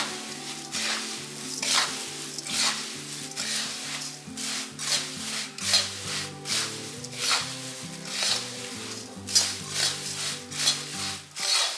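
Puffed rice bhadang, yellowed with turmeric, is stir-fried with powdered sugar in a pan over a low flame with very little oil. Close, steady scraping and rustling repeats in an even rhythm, with no talking.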